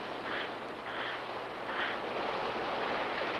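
Ocean waves wash onto a beach in a continuous, fairly loud surf hiss, with gentle surges rising and falling about every second.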